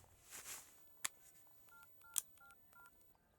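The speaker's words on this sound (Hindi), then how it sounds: "चल भाई को फोन लगा।" Faint telephone keypad tones beep in a quick series of short dialing notes, with a couple of soft clicks as buttons are pressed.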